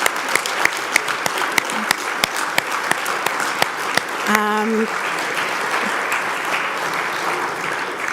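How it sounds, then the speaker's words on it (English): An audience at a high school graduation convocation applauds the parents, with sustained clapping and crisp, evenly spaced claps standing out, plus a brief whoop midway. "a big round of applause and mazal tov to all of the parents"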